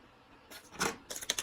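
Small scissors trimming the edge of a scrapbooking card, a few close, crisp snips, faint and quick in succession.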